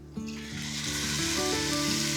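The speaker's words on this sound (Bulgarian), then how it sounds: "След като мине времето, се добавя и доматито от консерва." Canned tomatoes tipped into a hot pan for a lentil stew, a sudden splash that swells into a loud, continuous sizzle with a tonal hiss running through it, close and steady to the end, with no talking.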